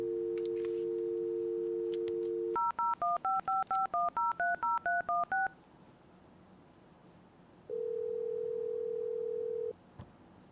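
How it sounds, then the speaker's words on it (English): Telephone dialing tones: a steady dial tone, then about ten quick DTMF keypad beeps in a brisk run, followed by a long ringing tone, all loud and clear with no talking. "Let me phone Austin."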